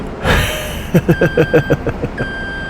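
A loud electronic reversing beeper on a video game vehicle pulses about eight times in a steady rhythm over a running engine, after a short engine rev, with no speech.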